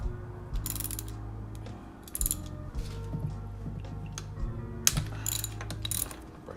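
A ratchet clicks in quick bursts while loosening the top starter bolt on a Jeep, close-up metallic pawl ticking in several separate pulls with short pauses between, no speech.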